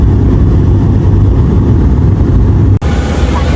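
A loud, steady low engine roar fills the whole clip, dipping briefly near the end before continuing, heard from inside an aircraft cabin as the plane descends to land in Malta.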